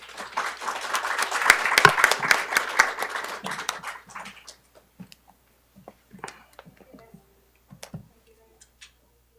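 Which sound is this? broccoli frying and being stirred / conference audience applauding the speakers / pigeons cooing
conference audience applauding the speakers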